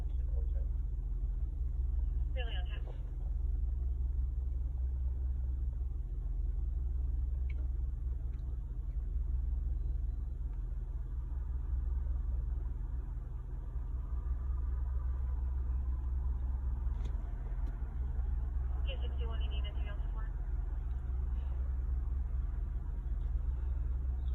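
Road traffic rumbles low and constant close by, with a few vehicles swelling as they pass. Voices talk over the noise.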